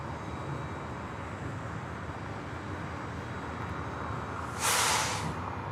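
A Delta Boeing 737-800 arriving at LAX from SFO gives a steady, distant roar of jet engines, with a brief louder burst of hiss near the end.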